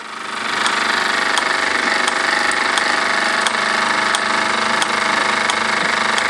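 A Falk 1442 toy steam engine under live steam, single burner, drives a set of workshop models, making a loud, steady mechanical rattle with rhythmic sharp clicks throughout, close by.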